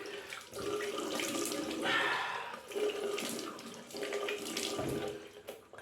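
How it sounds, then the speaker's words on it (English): Tap water runs steadily into a bathroom sink while an alum block is rinsed under it, a continuous splashing hiss that swells and dips slightly with the rinsing, close and fairly quiet, with no talking. "Just gonna wash the alum,"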